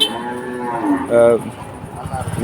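A cow moos loudly and close by, a long drawn-out low call, with faint murmur in the background at the Keshabpur cattle market in Jessore, Bangladesh.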